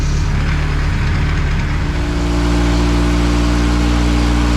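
A race car engine runs on a rolling road dyno, a loud steady drone with strong low harmonics that shifts into a smoother, steadier idle-like hum partway through.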